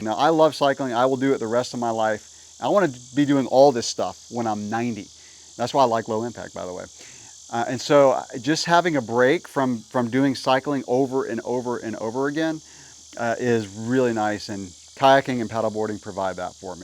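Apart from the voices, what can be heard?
cicadas buzzing outdoors in summer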